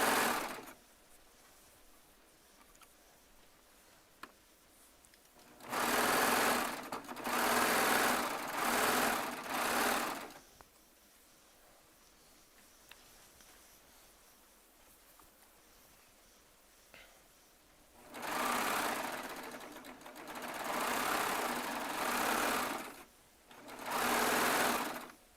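Baby Lock Triumph serger stitching jelly roll strips for a queen size quilt top, running in bursts of several seconds, some short stitch runs grouped together, separated by quiet pauses, near and alone.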